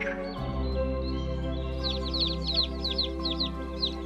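Quick chirping blackbird calls repeat in short bursts over a low, steady background rumble, fairly close and moderately loud.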